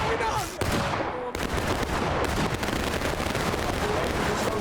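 Musket volleys crack out in the multiplayer battle game War of Rights, set in a 1776 public match at Pry House, with dense overlapping gunfire rolling continuously and several sharp bursts standing out, loud and close, alongside shouting players.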